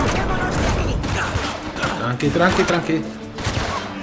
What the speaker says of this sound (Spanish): ¿Quién me estaba disparando, tío?